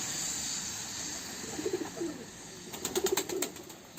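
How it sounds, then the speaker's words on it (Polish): Soft pigeon coos sound in two short bursts, close by, over a steady background hiss of light rain. "Mokre gołębie."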